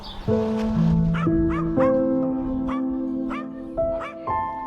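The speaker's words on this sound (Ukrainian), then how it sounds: "собаки загавкали в Петровні" Several dogs bark and yip in quick, uneven bursts, fairly close, with some whining tones between barks and no talking.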